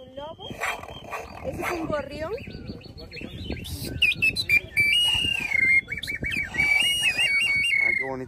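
A prehispanic clay whistle from Oaxaca imitates a sparrow, giving loud, shrill, warbling chirps in rapid trills that fill the second half, preceded by someone speaking.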